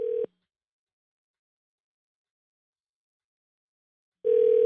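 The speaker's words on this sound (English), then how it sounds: "it's ringing." A telephone ringback tone sounds during an outgoing call: a steady buzzing tone cuts off briefly at the start, then a long silence follows before the next ring begins and holds.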